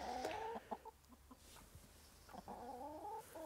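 Laying hens cluck close by in short bursts, with a quieter gap in the middle, over faint background noise.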